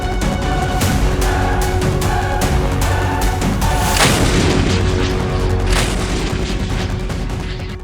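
An Indian Army 155 mm truck-mounted gun system, built on a high-mobility armoured truck, fires a string of loud booming rounds in quick succession, each blast rolling into the next with heavy reverberation.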